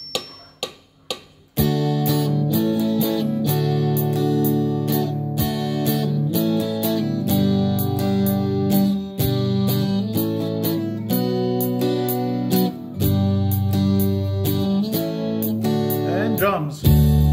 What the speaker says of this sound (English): you'll notice there's a drum kicking in with a doof, doof, doof in the background